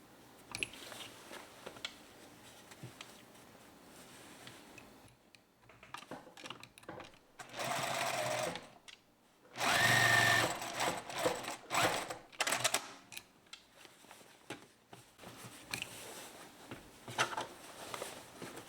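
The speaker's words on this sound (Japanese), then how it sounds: "縫い代のみ縫っていきます。" Sewing machine stitching the seam allowance at the shoulder of a bow tie's facing, heard in two short bursts of steady whirring mid-clip, between quieter handling noises.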